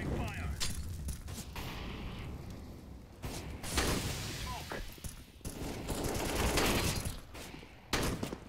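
Shotgun gunfire in a video game, several sharp loud blasts in quick bursts amid game noise, with players talking over the action.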